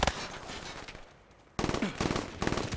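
Rapid automatic gunfire in a first-person shooter video game, dense bursts of shots up front, a short lull, then louder renewed bursts firing in quick succession.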